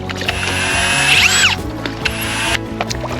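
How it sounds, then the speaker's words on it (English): A power drill whirs steadily with a rapid mechanical chatter as it bites into soft composite material, close and fairly loud, with a rising whine partway through. "It might be a little difficult to get my drill in here"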